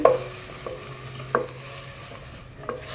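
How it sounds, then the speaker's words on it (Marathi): Milk being stirred into grated carrot in a pan, soft wet swishing with a few distinct utensil clinks against the pan at intervals, over a faint steady hiss. "हे बघा, असं मिक्स करायचं आहे बघा।"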